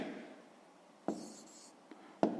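A pen writes on paper during a fifth-grade math exercise, giving a soft, close scratching with a few short pen strokes and taps in near quiet.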